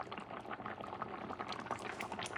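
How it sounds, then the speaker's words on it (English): Paella broth with saffron coming to a boil in a paella pan for gator paella, a dense steady bubbling and fizzing, quiet and continuous with no talk. "Starting to boil."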